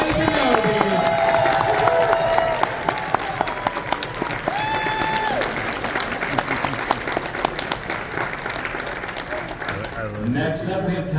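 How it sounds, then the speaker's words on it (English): A comic con cosplay contest audience gives a big round of applause for an Obi-Wan Kenobi cosplayer, loud sustained clapping with cheers and whistles, and voices carrying over it near the end. "Please give a big round of applause for Brecken McGinnis as Obi-Wan Kenobi."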